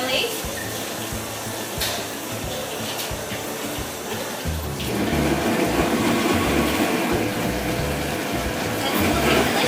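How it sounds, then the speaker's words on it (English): A milkshake machine mixing milk into chocolate buttercream frosting runs with a steady, loud whirring drone that grows louder and fuller midway through, continuing without a break. "the milkshake machine is going"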